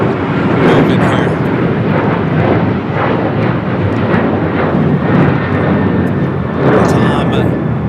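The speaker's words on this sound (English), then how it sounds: "they're going to get this first A380" An Airbus A380 moves at LAX airport, heard as a loud, continuous broadband roar of jet engines that holds steady throughout, with no talking.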